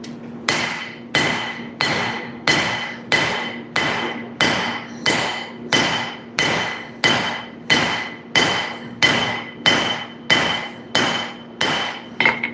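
A hammer strikes hot steel while forging a nakiri knife blade, about sixteen evenly spaced, ringing metallic blows in a steady rhythm, each decaying quickly, close and loud.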